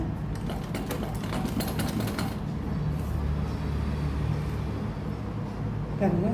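A sewing machine stitches the neck of a blouse with a close, steady mechanical hum, and a voice speaks intermittently over it.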